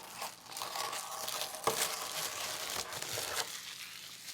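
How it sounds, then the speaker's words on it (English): A plastic dust cover for a transparent mechanical keyboard crinkles as it is unwrapped, continuous close rustling with a few sharper crackles, no talking. "And we also have a keyboard dust cover."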